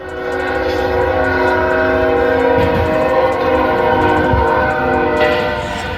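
A train blares a long, steady horn and rumbles loudly through a level crossing toward a car stuck on the tracks.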